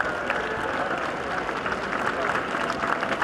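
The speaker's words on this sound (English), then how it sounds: "applause from the assembled crowd around this circular winners' enclosure" Applause from a crowd gathered around the circular winners' enclosure at Epsom racecourse after a horse race win, steady clapping mixed with crowd murmur and some voices throughout.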